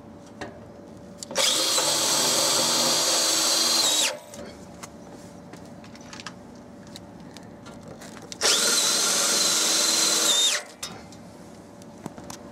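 A power tool cuts a fence board from a fence kit in two loud, steady bursts of a few seconds each, close by, separated by a quieter pause with light handling noises.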